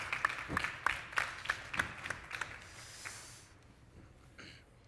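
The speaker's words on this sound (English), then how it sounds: "Applause." A short burst of scattered clapping from a small conference audience, several quick claps that thin out and fade into quiet room noise.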